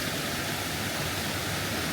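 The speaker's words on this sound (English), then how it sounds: "so you can see the waterfall down there" Rainwater pours off a front yard during a heavy downpour like a small waterfall, a steady, loud, dense rush of water with no breaks and no voices.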